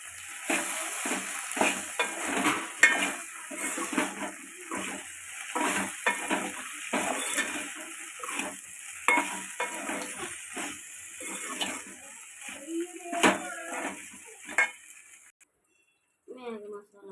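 Stir-frying in a pan after chili powder goes in, with a steady sizzle and repeated scraping stirs of a spatula, heard under talking that carries most of the clip before fading out.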